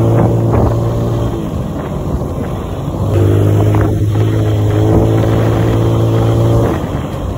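A Yamaha Mio Sporty scooter engine runs nearby with a steady droning idle that rises in two throttle blips, with short sharp pops of backfiring and wind buffeting the microphone.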